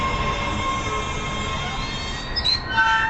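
An MBTA commuter rail train rolls through JFK/UMass station with a steady rumble of wheels on track, then a sharp metallic squeal of wheels near the end, heard close with no talking.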